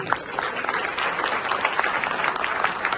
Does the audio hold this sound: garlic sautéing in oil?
no